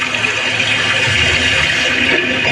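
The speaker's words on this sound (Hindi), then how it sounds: "यहाँ सतत क्षिप्रा नदी की निर्मल धारा बहती है।" Steady rushing water of the Shipra river flowing continuously at Ujjain, a full, even wash of sound heard alone without pauses.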